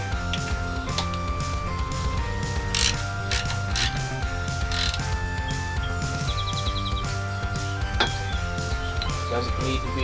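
A ratchet clicks while a part on a Briggs 4000W generator carburetor is tightened, with repeated metallic clicks and clinks close by over a steady tonal hum.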